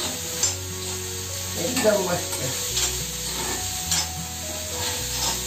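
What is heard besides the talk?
stirring and frying onions in a kadhai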